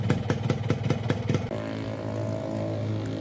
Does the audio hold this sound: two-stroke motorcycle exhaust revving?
yes